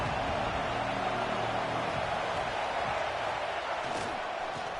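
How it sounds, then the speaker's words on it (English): Football stadium crowd roaring steadily near the goal line at a Crimson Tide game, a dense continuous wash of cheering that holds at high volume for several seconds. "And the crowd really making some noise now, trying to help out this defense to get this stop near the goal line."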